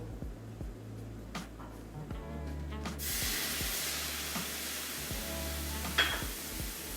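Sofrito hits a hot paella pan with a sudden loud sizzle that jumps in partway through and keeps hissing steadily, following a few earlier utensil clinks and taps.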